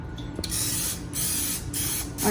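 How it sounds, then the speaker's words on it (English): Several short hissing bursts of aerosol cooking spray onto a muffin pan, close and fairly loud, with brief pauses between each spray. "So now I'm just gonna spray the muffin pan."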